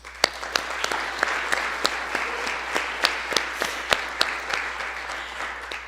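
A banquet audience applauds honors candidates at a university awards dinner: sustained, even clapping from many hands, with a few sharper, nearer claps standing out throughout.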